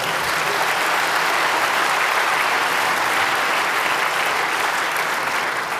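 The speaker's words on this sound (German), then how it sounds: "Ja, also eine Runde Applaus." A large crowd at a hacker security conference applauds: thick, continuous, loud clapping from many people, steady in level throughout with no voices standing out.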